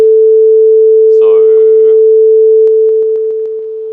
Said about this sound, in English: So you should hear a sine wave with a volume.